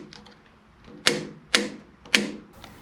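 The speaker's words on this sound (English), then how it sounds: "the knob provides a very satisfying click at each resistance" The resistance knob on a Star Power EP120101 elliptical clicks into each setting: three loud, crisp detent clicks spaced about half a second apart, close up.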